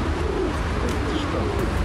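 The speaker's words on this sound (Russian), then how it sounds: "Люблю, как они чирикают, как они там поют." Birds calling outdoors, with soft cooing like pigeons or doves over a continuous background hum. The calls are moderately loud and come in short repeated phrases.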